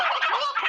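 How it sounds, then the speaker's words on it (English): Dense poultry calls with a gobbling, turkey-like character, a short burst of overlapping clucks and squawks heard up close and fairly loud, with no talk over it. "That must be the chickens."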